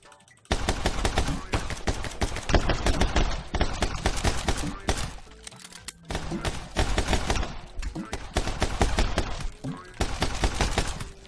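Rapid bursts of gunfire ring out in My Friend Pedro, loud and dense with shattering impacts, broken by short pauses between volleys.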